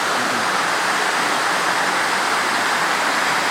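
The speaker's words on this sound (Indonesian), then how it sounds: "Padahal di sini airnya benar-benar deras ya, Beli Leong ya." Water rushing hard through the Oongan dam in Kesiman, Bali, a loud, steady, broadband roar that holds constant without any break.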